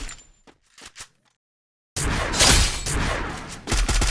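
Gunfire in the mobile battle-royale game Free Fire: a few sharp isolated shots, a pause, then a loud sustained burst of shooting and impacts.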